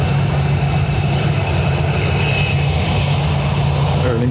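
Aer Lingus airliner departing Dublin Airport for Paris Charles de Gaulle, a continuous low engine rumble with a steady whine above it, loud and sustained throughout.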